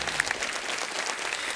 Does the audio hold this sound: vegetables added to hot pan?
no